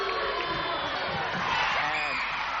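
A netball crowd at a 1998 Commbank Trophy preliminary final between Melbourne Phoenix and Sydney Swifts roars steadily in disapproval of a call, a dense, loud wall of voices with no break.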